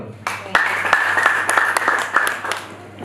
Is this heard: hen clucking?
no